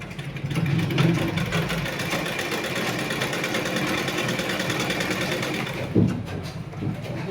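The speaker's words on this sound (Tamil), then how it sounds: "இப்போ திருப்பி என்ன பண்ணுறோம், அப்படியே வெறுமனே தைச்சிட்டு வரோம்" A sewing machine stitches frills onto chudidar pants, a steady continuous mechanical whir running loud and close for most of the clip, with a brief bump near the end and no talk.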